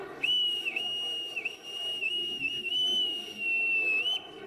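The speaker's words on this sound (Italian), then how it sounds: "Il fischio del Nostromo nella sezione dedicata all'associazione Marinai" A boatswain's whistle, shown at a sailors' association display in Treviso, sounds one long, shrill, steady note that lasts about four seconds, with slight dips in pitch, loud and close.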